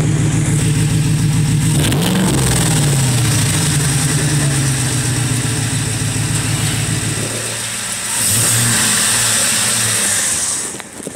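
A 2013 Ford F-150 Raptor's engine, fitted with an exhaust cutoff, idles loud and close, then revs up sharply twice, with a steady rumble between the bursts and no voices.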